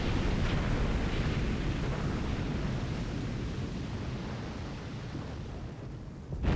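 Torpedo impact explosion in the submarine game Silent Hunter 5: a sustained, heavy rumbling roar that stays loud for several seconds, slowly easing off before a fresh burst at the very end.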